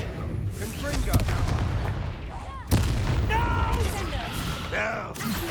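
A Confringo blast spell fired in the game Hogwarts Legacy, with sharp booming impacts near 1.2 and 2.7 seconds over a dense mix of combat effects, game music and shouted character voices throughout.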